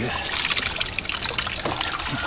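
Water is poured into a mixture with salt and chili, a continuous trickling splash from start to finish, close and fairly loud.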